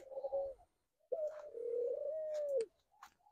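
Red-whiskered bulbul hybrid birds in a breeding cage give close, clear calls: a short tonal call, a pause, then a longer sustained warbling note, with faint chirps at the end.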